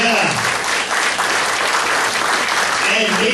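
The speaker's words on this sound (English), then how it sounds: "round of applause for everybody who saw on stage tonight" A comedy club audience in Myrtle Beach applauds loudly and continuously, a thick wash of clapping with crowd noise and a few voices mixed in.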